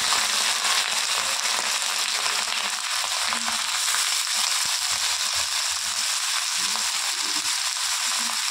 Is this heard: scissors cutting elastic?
no